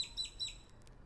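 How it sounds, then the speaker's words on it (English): Small birds chirp faintly outdoors in the morning, a few quick high tweets over quiet background ambience. "Loving the bird sounds out here, all the different birds."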